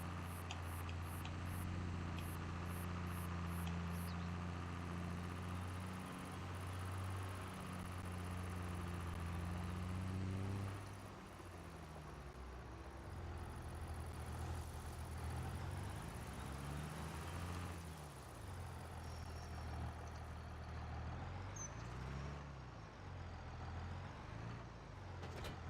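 Tractor engine with a weight on the back in Farming Simulator 25, a steady low droning rumble that shifts in pitch as it works, continuous and alone throughout.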